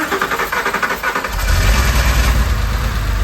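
Car engine cranking in rapid rhythmic bursts, then catching and settling into a loud, steady, close running idle, after an ignition repair.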